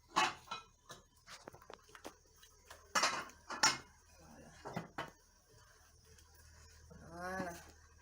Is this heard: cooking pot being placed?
yes